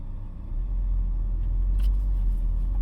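A car drives over ridged, washboard-like asphalt on a German Autobahn, giving a loud, steady low rumble with faint ticking on top.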